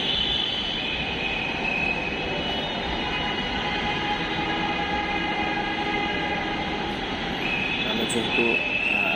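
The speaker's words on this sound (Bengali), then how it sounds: "আমাদের মেট্রো রেল আর অল্প কিছুক্ষণের মধ্যে আসবে।" A metro rail train rumbles and hums steadily at a station platform, its drone continuous with faint squealing tones rising toward the end and voices murmuring underneath.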